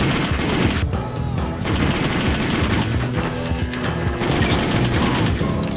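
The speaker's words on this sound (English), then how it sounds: "Now they're shooting at me!" Sustained enemy gunfire in Just Cause, loud bursts of rapid machine-gun shots and crashes running continuously with no pause.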